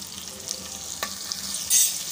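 Ginger, asafoetida and curry leaves crackle in hot ghee for a tempering, a steady soft sizzle with a brief stir near the middle and a louder hissing burst toward the end.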